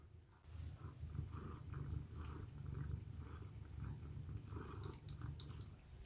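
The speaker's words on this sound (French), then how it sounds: "Ça ronronne." A cat purring in a low, continuous rumble, quiet and close, with soft rhythmic pulses and faint background noise.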